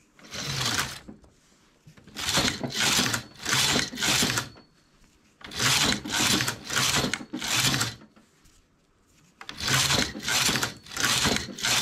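A knitting machine carriage rattles across the needle bed knitting rows for a decorative flower, heard as three clusters of four loud, sliding passes each, separated by short pauses, close to the listener.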